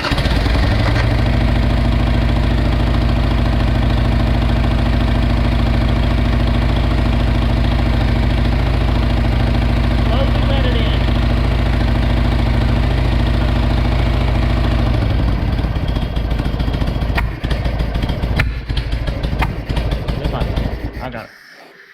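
Harley-Davidson Sportster 883 engine running on choke, a loud, steady low rumble at fast idle that drops in pitch partway through, followed by clunks and handling noises before cutting off.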